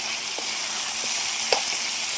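Pieces frying in plenty of oil in a pan on a farm kitchen stove, a loud, steady sizzle with a few faint clinks of stirring.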